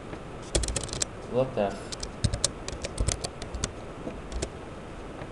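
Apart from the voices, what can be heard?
typing a folder name on a computer keyboard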